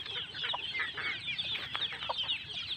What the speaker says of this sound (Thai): กินอิ่มกันหรือยังเนี่ยลูกไก่เนี่ยทำไมร้องเจ๊กๆ๊เนี่ย